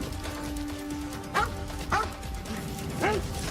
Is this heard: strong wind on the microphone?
no